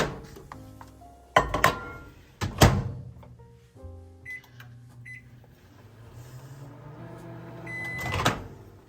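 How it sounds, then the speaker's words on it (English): A microwave oven melting chocolate chips, heard up close: a few sharp clunks of the door and kitchen handling, then a steady low hum of the running oven with faint beeps, ending in another thump. "we're going to microwave this until it is melted"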